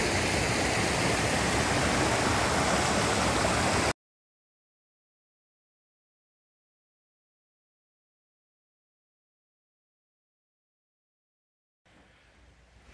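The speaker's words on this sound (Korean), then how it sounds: "물소리 들리시죠?" A stream flows through a mountain valley in Danyang, giving a loud, steady broadband rush of water for about four seconds, then dead silence, with faint water noise returning near the end.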